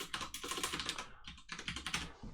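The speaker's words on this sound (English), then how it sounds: "I'm just going to type the IP address" Quick bursts of typing on a computer keyboard as an IP address is entered, fast irregular key clicks in two runs with a brief pause between, close and fairly quiet.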